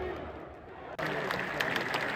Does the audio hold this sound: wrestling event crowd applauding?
yes